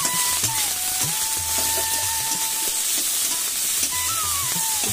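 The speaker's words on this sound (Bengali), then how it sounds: "সবুজ রঙেই থাকবে ভাজা উচ্ছেটা" Bitter gourd frying in a pan with salt: a continuous bright sizzle and crackle, with occasional stirring knocks and a faint thin tone running underneath, with no speech.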